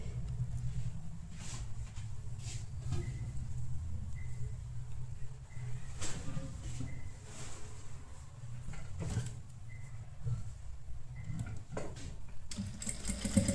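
A sewing machine stitches a halter neck blouse in a steady, low mechanical whirr that runs almost continuously, broken by short pauses and a few faint knocks.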